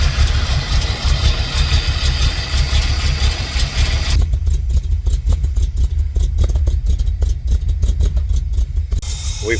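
A C3 Corvette V8 idles loud and close with a lopey race-cam rumble, deep uneven pulses throughout, joined by sharp clattering ticks in the second half.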